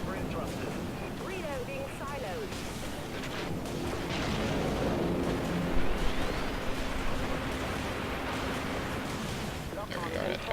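Ship weapons in the space combat game Dreadnought fire at an artillery cruiser, a continuous roaring barrage of booms and rumbling blasts with someone talking over the gunfire.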